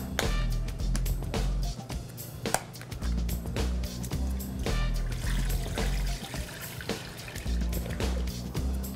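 Vegetable broth pouring from a container into a cooking pot for a vegan chili, a continuous close trickling and splashing stream of liquid with small gurgles, heard alone with no talk.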